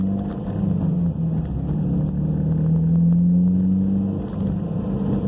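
Mitsubishi Evo X engine droning steadily from inside the cabin while driving, a close, sustained hum whose pitch rises gradually and then eases, with road rumble beneath and no voices.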